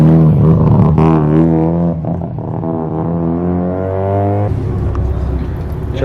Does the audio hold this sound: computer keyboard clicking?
no